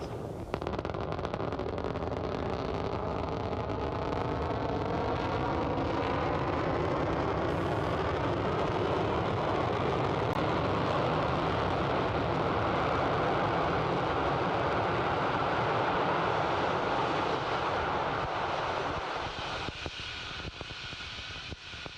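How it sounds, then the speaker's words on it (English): Falcon 9 first stage booster firing its landing burn during the NROL-48 mission from Vandenberg, California: a loud, continuous roaring rumble that holds steady for about twenty seconds and thins slightly near the end, with no voices. "Now the landing burn has begun for the Falcon 9 first stage."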